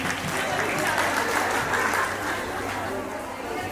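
An audience at a women's community event claps in a sustained, even burst of applause, fairly close, with voices talking over it.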